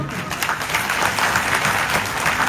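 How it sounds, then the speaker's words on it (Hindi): Crowd applauding at a political rally in Moradabad, a dense, steady wash of clapping that holds at an even, loud level for the whole stretch with no voices over it. "मुरादाबाद वाले मेरे लिए ताली बजाओ भाई"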